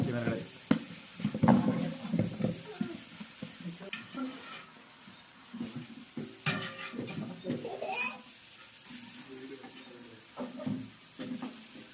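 Chicken fry with chilli sizzles and is stirred in a pan over a village cooking fire, with steady frying and irregular scraping strokes, under intermittent talk.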